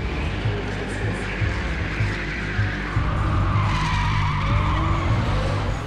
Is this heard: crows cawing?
no